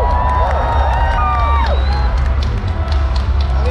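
A festival crowd at a live music show cheers, whoops and claps loudly for a performer, with shouted voices rising and falling over a low, steady rumble from the stage.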